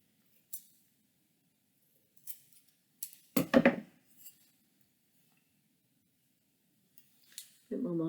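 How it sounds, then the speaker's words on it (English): Scissors trim excess paper from the back of a wooden photo-transfer craft piece, a handful of sparse, sharp snips spread across quiet gaps, close by, with a short bit of speech at the end. "Trim off the bits that I don't need from the back."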